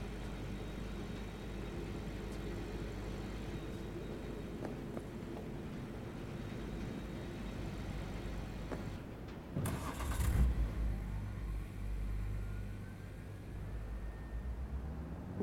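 Car engine in the video game Cyberpunk 2077, a steady low rumble running throughout with a louder surge of revving near the middle before settling back to a constant drone.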